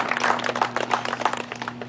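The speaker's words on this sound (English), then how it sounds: "Round of applause to everybody for having a good time." Audience applause at an off-road side-by-side race event, a dense patter of many hands clapping at once, with a steady low hum underneath, fading slightly toward the end.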